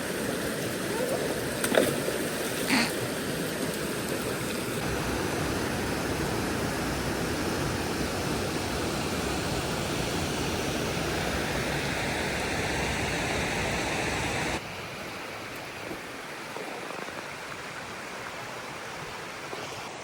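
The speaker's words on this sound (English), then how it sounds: "they do have this like all but dam built thing, so it does look like a waterfall when you're on the bottom side of it" Water spills over a dam spillway in Arkansas like a waterfall, making a loud, constant broadband rush that continues throughout and drops slightly in level near the end.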